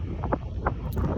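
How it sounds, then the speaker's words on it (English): Gusty seaside wind in Hastings buffets the microphone with low, rumbling roars that swell and ease over a brief stretch, with no talking. "It's getting quite windy now"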